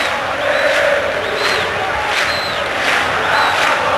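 Flamengo supporters fill a stadium with chanting and cheering during the 2008 Rio state championship final against Botafogo, a dense, steady roar with repeated high whistle-like tones rising above the crowd.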